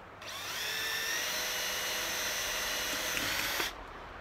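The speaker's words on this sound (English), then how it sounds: "I'm going to drill a hole in the center of the can." A power drill whines steadily for about three seconds, its high-pitched motor cutting through the center of a beer can, then stops abruptly.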